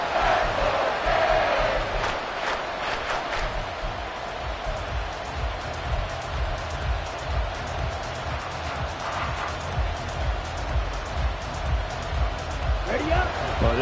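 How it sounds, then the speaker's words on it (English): A football stadium crowd roars and cheers continuously during a live game, a loud, dense wall of noise that swells and holds throughout with no clear break. "this crowd is making an impact right now"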